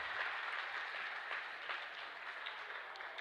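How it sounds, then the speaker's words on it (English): Audience at a Holy Cross versus Cottage Grove basketball game applauding the starters, a faint, steady patter of clapping from a distant crowd. "Nice big round of applause for starters from Holy Cross."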